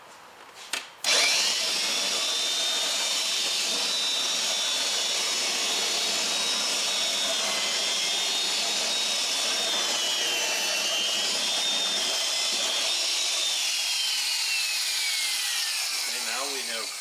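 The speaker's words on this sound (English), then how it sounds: "We have put a pilot hole into the platform" A drill boring a pilot hole through a wooden platform, a loud steady whine that starts abruptly after a thump and runs without pause before winding down.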